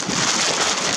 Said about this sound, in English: As you can hear, it's a bit windy